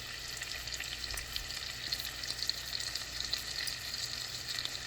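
Hamburger patties frying in a pan, a steady close sizzle and crackle of fat that holds evenly throughout with no voices.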